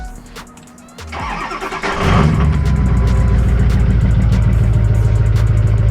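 A Nissan 240SX pulled from a barn after years of sitting cranks over on a chilly morning, then catches and settles into a loud, steady, rumbling idle close by.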